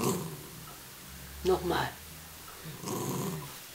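A dog growls on command as a trick: a low rumbling growl in short bursts, close by, with a voice giving prompts in between.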